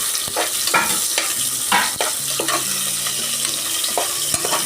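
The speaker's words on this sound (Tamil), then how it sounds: "ஆனால் வெங்காயம் மட்டும் நல்லா வதங்கணுங்க" Onions for chicken curry sizzle loudly in a pan while being stirred, with sharp scraping strokes of the spoon punctuating a steady hiss over almost five seconds, without any talk.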